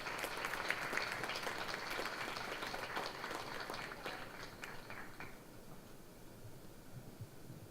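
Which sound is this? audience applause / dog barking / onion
audience applause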